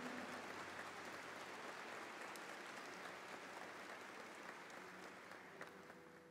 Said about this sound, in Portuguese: pode aplaudir, está aqui